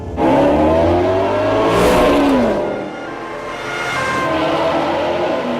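A car accelerates hard during a police chase through traffic, its engine loud and close with a rising, revving pitch that dips briefly and then steadies into a sustained roar. No one talks.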